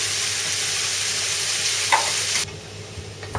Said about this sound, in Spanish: Y dejaremos que se vaya haciendo este sofrito a fuego lento.